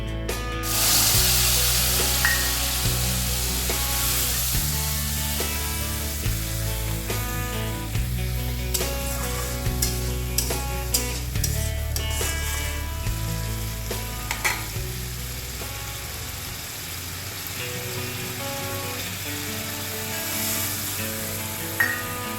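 Oil sizzles and crackles steadily as a spice paste fries in a wok, with occasional stirring scrapes, all under continuous background music.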